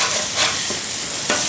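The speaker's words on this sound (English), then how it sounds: "I like to try to just kind of corral all these onions kind of in there." Diced onions being scraped and gathered into a pile on a hot Blackstone griddle for Oklahoma onion burgers, loud close sizzling with scraper strokes swishing across the flat-top, no speech.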